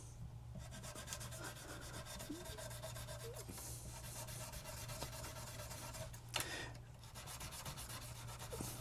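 Light, steady rubbing on the oxidized frets of a Fender Squier bass, a soft continuous abrasive scrubbing over a low constant hum, with one brief louder scrape near the end.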